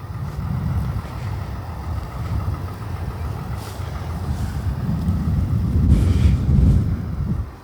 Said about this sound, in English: Again, apologize for the wind. It's a little windy.